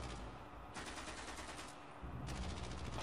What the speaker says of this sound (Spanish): Y si no me equivoco, acá tenemos torreta, si no me equivoco.